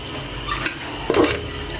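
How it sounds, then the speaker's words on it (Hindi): Chicken with green chillies stirs and sizzles in a pan over medium heat, with a steady frying hiss and a couple of scraping clinks of a spoon against the metal. "मीडियम आंच पे हम इसको अच्छी तरह भूनेंगे।"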